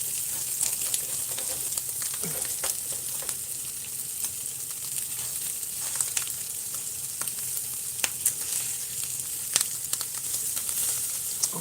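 Ground beef meatballs fry in a frying pan with a steady, close sizzle and hiss, broken by occasional clicks and scrapes as they are moved, with no talking.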